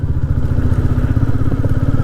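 A motorcycle on a winter ride, its engine thumping in a loud, fast, steady low pulse close by, with no talk over it.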